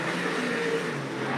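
A super late model race car accelerates on a short oval track, its engine a loud, continuous broadband roar that holds steady throughout.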